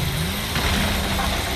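Car engine in the video game Fortnite, a loud steady running drone close up, with no speech over it.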